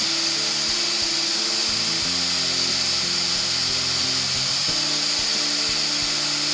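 Finishing wax burnished onto a wooden spinning top turning on a woodturning lathe, a steady motor hum with rubbing and scraping friction sounds that come and go.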